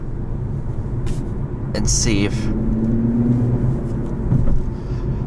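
A 2020 Infiniti Q60S Red Sport coupe on the road, steady engine and tire rumble heard from inside the cabin, with a voice talking over the drive.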